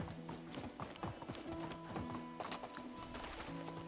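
Horse hooves clip-clop in a brisk, steady rhythm while riding in the Medieval Dynasty video game, with a brief whinny and faint game ambience underneath.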